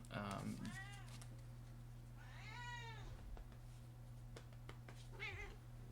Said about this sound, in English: Apologies for the noise from the cat.